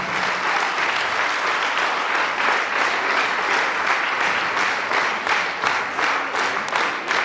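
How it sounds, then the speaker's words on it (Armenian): A concert audience gives warm applause, dense rhythmic clapping that pulses steadily and fairly loud throughout, with no talking. "Ջերմ ծափահարում ենք։"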